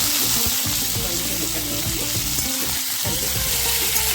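Mustard seeds, urad dal and chana dal frying in hot oil for an Andhra-style dondakaya (ivy gourd) lemon curry, a steady loud crackling sizzle with some clattering and stirring, with no voices.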